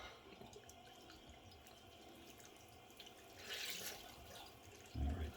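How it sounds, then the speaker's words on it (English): Warm tap water runs steadily into a sink while soap is rinsed off during a wet shave, a soft continuous splash that swells briefly and ends with a louder knock. "rinse this under warm water"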